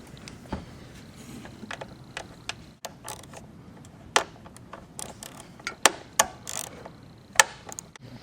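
A swivel socket ratchet clicks in short irregular bursts while it tightens a bolt on an Acura/Honda power steering component, with sharp ticks spread across a quiet background.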